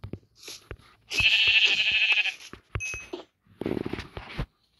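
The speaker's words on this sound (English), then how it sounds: "So I got one from each sheep that I just killed." Sheep in the Minecraft video game give a loud, nasal bleat lasting about a second. Sharp clicks and thuds of in-game hits come before it, and a second, shorter bleat-like burst follows.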